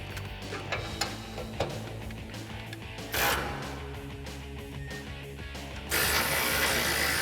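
A hand ratchet clicks rapidly while backing out a 10 mm exhaust hanger bolt on a 2011-2016 Ford F-250 Super Duty, close and steady metallic pawl ticking with a few louder bursts of handling noise.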